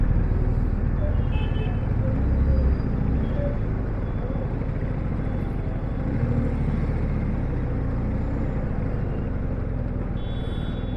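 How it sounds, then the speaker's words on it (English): Dense roadway traffic and buses idling at a busy bus stop in Guwahati, a steady loud rumble throughout, with passing vehicles blending into the continuous engine noise. "So there are a lot of buses standing here."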